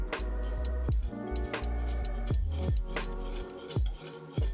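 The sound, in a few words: whisking flour and sugars in a large bowl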